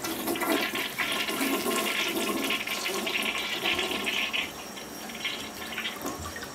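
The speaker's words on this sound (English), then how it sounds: "And then it flushed." A new white toilet flushes up close, a loud rushing gush of water that swirls and drains, then tapers into quieter refilling flow.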